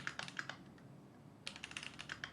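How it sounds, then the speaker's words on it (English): Fingers type on a computer keyboard in two quick bursts of clicking keystrokes with a short pause between, close and fairly quiet, with no voices. "You do this by typing into the chat"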